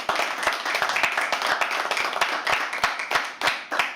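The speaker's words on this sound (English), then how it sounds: "Can we all just clap for them?" Audience at a live poetry open mic clapping in a steady, lively patter of many hands, sharp and fairly close, with no talking.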